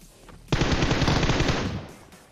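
Rapid automatic gunfire bursts loudly in a video game shooter, a dense continuous rattle of shots lasting over a second before tapering off, with no talk over it.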